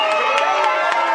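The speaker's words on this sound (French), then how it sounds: "sous les acclamations frénétiques de l'assistance" Guests at a civil wedding ceremony in the Limete communal hall in Kinshasa cheer frantically, a brief and continuous roar of many voices with bursts of shouting.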